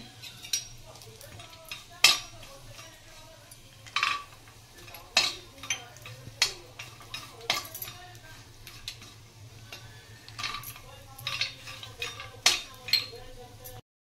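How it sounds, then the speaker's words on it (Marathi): Dry fruits roast in ghee in a pan while a spoon scrapes and taps in irregular clinks and knocks over a low steady hum, close and moderately loud. "तर आता हे ड्राय फ्रुट्स आहेत ते भाजून घेते याच्यामध्ये तुपामध्ये"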